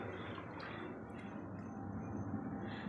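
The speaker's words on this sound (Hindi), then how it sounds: "अब हम इसके अंदर डालेंगे 4 से 5 गिलास पानी" Water is poured into a pot of black chana masala being cooked into a broth, a quiet, continuous splashing gush that runs steadily throughout with no voices.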